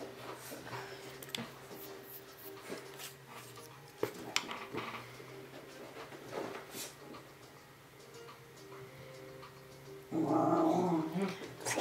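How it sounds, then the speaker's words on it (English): A dog plays and growls nearby, with low rumbling growls and soft yips scattered over a quiet room, light pencil-like taps and ticks, and a short burst of a person talking near the end. "My dog is playing."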